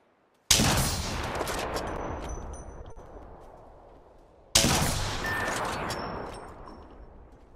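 Two heavy bursts of gunfire in a battle royale shooter, with the player's character Ash under attack. Each loud, booming volley starts abruptly about four seconds after the last and decays slowly, with faint metallic pings in the tail.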